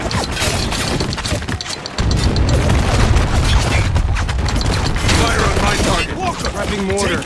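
Mortar fire and explosions boom amid a chaotic battle against soldiers and Humvees in the military shooter Spec Ops: The Line, heavy thuds over continuous crackling gunfire, with radio voices talking throughout.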